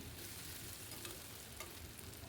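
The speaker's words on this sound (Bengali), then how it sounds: "আবারও আমি নেড়ে দিলাম এবার আলুটা অনেকটা ভাজা ভাজা হয়ে গেছে" Potatoes fry in a pan on a low flame, giving a soft, continuous sizzle with a couple of faint stirring scrapes.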